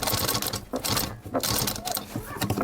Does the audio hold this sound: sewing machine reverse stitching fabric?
yes